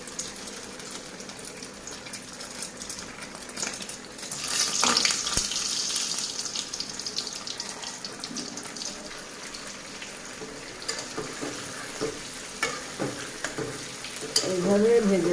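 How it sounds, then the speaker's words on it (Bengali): Stuffed pointed gourds (potol) frying in hot oil, a steady crackling sizzle close by with a louder burst partway through and some stirring and clatter of utensils; no talking. "পটলগুলো ভেজে নেব"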